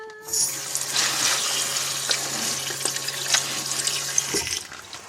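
Tap water runs steadily into a sink while freshly picked wild garlic is washed, a continuous close splashing hiss that starts abruptly, carries on for several seconds and cuts off near the end.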